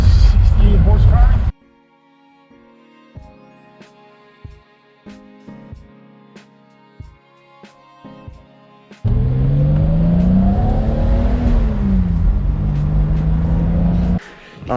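A car engine, likely a BMW inline six of about 168 horsepower, pulls hard under acceleration, a loud rising drone with a clear climbing tone that follows a quieter stretch of clicks and knocks.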